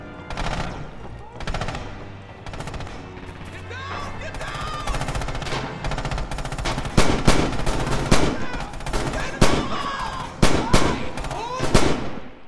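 Machine gun fire in the World War II shooter Red Orchestra 2, loud bursts and single cracks of gunfire stacked over distant battle noise, growing denser and closer toward the end, with a voice talking over the fighting.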